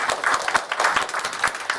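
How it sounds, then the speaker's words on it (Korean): Church congregation clapping in welcome for a visitor during a Sunday service, a steady patter of many hands at moderate volume for under two seconds, with no talk over it. "우리 환영의 박수."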